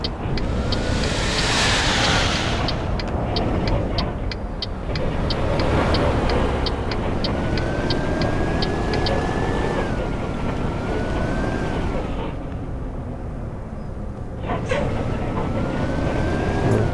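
A bus engine labours steadily uphill on a hilly Indonesian route from Pariaman to Padang Panjang in Euro Truck Simulator 2, a continuous loud drone with rising and falling tonal whine, wind-like rush, and a run of rhythmic ticking clicks early on.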